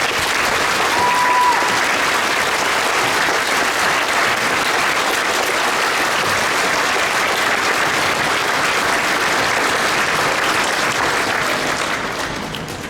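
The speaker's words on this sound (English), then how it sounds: "let's give them a round of applause." Loud, sustained applause from an elementary school Veterans Day program crowd honoring standing veterans, dense clapping from many hands that holds steady for over ten seconds before easing slightly at the end.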